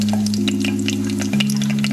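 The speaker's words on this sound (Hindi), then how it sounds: "तो अच्छी तरह से ब्राउन कर लेंगे, लाइट सा ब्राउन करेंगे।" Whole cloves, cinnamon, cumin and coriander seeds fry in a pan for a light browning, giving a steady close sizzle and crackle with a constant low hum beneath and no talking.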